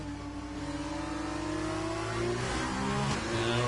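F2 race car engine in a racing video game at the Singapore street circuit, revving hard on throttle with rising and shifting tones, loud and close and steady throughout, no talk over it.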